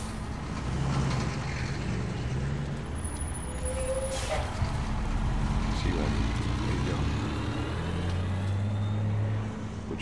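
A vehicle in The Last of Us Part 2 rolls slowly past with a steady low engine rumble and a brief hiss like a brake, while voices talk over it.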